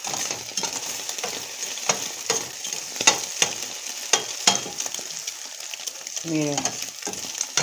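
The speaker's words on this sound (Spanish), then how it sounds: "Pues ni modo, lo vamos a tener que revolver." Egg with chile spits and crackles in a pan as it is stirred, with sharp, repeated scrapes and ticks over a continuous sizzle; a voice speaks briefly.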